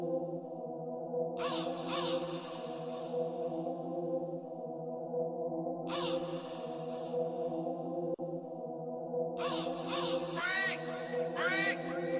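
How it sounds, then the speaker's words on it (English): Crow cawing in bursts at three separate moments, off in the background behind a steady tonal music hum, fairly faint. "Is that a crow in the background?"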